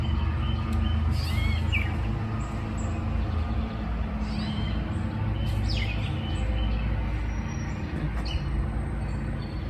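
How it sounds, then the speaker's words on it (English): Birds, including a cardinal, chirp and twitter intermittently at a feeder over a constant low mechanical rumble, like a mower running in the background. "I hope you can hear the birds because so many out here."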